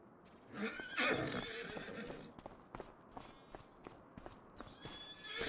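A horse whinnies loudly in a barn in the video game Farming Simulator 25, followed by a series of soft hoof clops and small stable sounds at a moderate distance.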